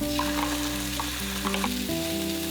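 Steady sizzle of eggplant in a covered pan, a continuous hiss with faint stirring clatter, close and even throughout with no voices.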